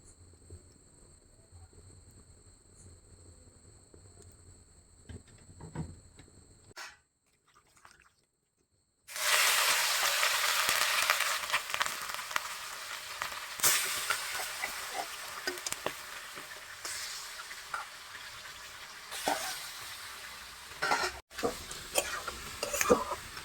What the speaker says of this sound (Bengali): হাঁসের মাংসর থেকে একটু আঁশটানি গন্ধ করে, তো তার জন্য আগে প্রথমে একটু তেল দিয়ে ভেজে নেব।